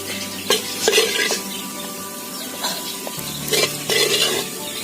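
Beef sizzles in a clay pot while a spoon stirs and scrapes at a steady, uneven pace, with no voices.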